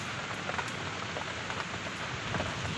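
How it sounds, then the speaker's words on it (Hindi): Heavy rain pours down steadily, a dense continuous hiss of drops pattering on surfaces close by. "ये पूरा इतना तेज बारिश है"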